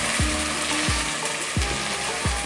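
Ginger-garlic paste and tomato paste sizzling in hot oil with fried onions and whole spices for a jackfruit veg biryani, a loud close crackling hiss with a few soft stirring scrapes, no talking.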